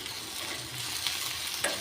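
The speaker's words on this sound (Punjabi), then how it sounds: "ਆਪਾਂ ਦੇਸੀ ਘਿਓ ਦਾ ਲਾ ਰਹੇ ਹਾਂ ਤੜਕਾ" Moong dal is tempered with desi ghee, a brief, soft crackle and sizzle from the hot fat, with a light metallic clink or two near the end.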